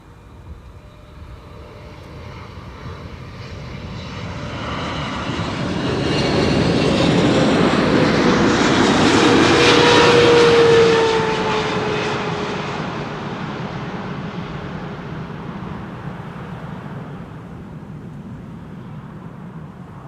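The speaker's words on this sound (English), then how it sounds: "Let's turn back for KLM flight 598, arriving from Cape Town in South Africa" A KLM Boeing 777-300 airliner arriving at Schiphol from Cape Town swells from a distant rumble into a loud roaring pass with a rising whine, then slowly fades away, alone without voices.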